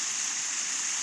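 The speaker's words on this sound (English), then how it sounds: "waterfalls" Steady rushing water from a waterfall in Pakistan's mountains, a continuous bright hiss with no break, fairly close and alone without any talk.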